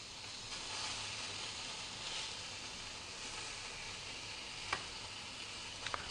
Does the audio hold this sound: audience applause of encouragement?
no